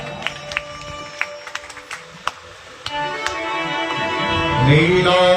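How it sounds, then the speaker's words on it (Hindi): Applause from an audience welcoming a speaker at a Shri Bhagavat Katha religious gathering, starting as scattered claps and swelling into a steady crowd clapping, with sustained music tones underneath. "जोरदार तालियों से स्वागत करें भैया का"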